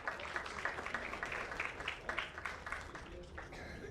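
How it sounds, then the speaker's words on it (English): A round of applause from an audience at a football league trophy unveiling ceremony, steady clapping at moderate volume with a voice faintly underneath. "Can we have a round of applause?"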